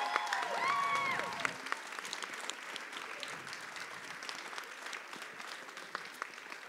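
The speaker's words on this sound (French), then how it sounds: "Une bonne main d'applaudissements pour Virginie." An audience at a local Cégeps en spectacle 2022 final in Trois-Rivières applauds the event organiser, steady clapping continuing for several seconds after a brief spoken introduction at the start.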